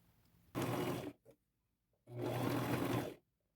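A sewing machine stitches fringe onto a lace duster made from a thrifted top and tablecloth, running in two steady bursts of about half a second and one second, each stopping cleanly into near silence.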